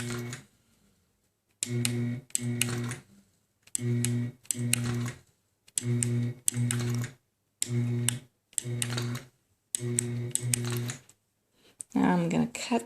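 A 2013 Millie longarm quilting machine runs basting stitches in regular bursts, each a loud, steady mechanical hum with rapid ticking, separated by short pauses, close to the microphone.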